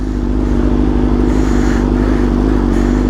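Motorcycle engine running steadily up close as the rider sets off, a constant mid-pitched drone with faint mechanical clatter and no talk.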